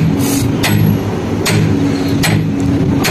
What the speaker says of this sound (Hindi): हथौड़ा धीरे धीरे मारेंगे निकल जाएगा धीरे धीरे।